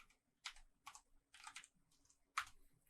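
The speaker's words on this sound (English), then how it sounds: "We type boxplot" Quick bursts of typing on a computer keyboard, five short clusters of crisp key clicks separated by brief pauses, close and fairly quiet with no voices.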